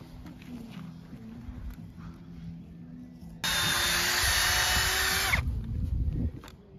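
A power drill whirs loudly for about two seconds driving screws into a post and rail fence, then winds down, with handling knocks and faint rustling before and after it.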